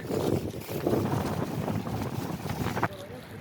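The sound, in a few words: wind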